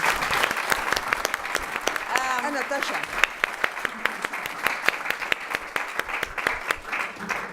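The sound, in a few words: audience applauding a discussion panel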